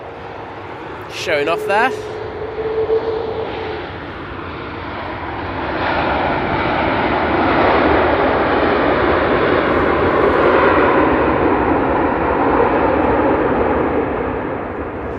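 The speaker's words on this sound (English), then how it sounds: "Beautiful touchdown there from the Virgin." A Virgin airliner touches down at Manchester Airport, its engine roar swelling into a broad, steady rumble that holds loud through the landing roll, with someone talking briefly over the start.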